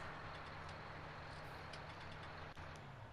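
A farm vehicle engine idles steadily in Farming Simulator 19 on PS4, a constant low droning hum with a brief dip near the end and no talking.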